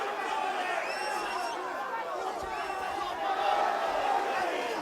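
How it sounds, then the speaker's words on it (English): Crowd noise at an MMA bout, Anderson Silva against Lee Murray: a steady roar of chatter and cheering fills the arena, swelling slightly louder near the end, with a commentator talking over it. "The crowd again trying their best to raise it for him"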